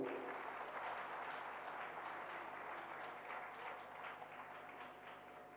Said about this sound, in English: Ladies and gentlemen, a huge round of applause for Mr.